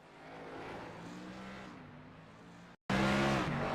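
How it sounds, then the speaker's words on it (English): NASCAR race cars lapping the Nürburgring in a racing video game, a steady engine drone with shifting pitch, a brief cut, then a louder close-up roar, with no speech. "So I got NASCARs at the ring."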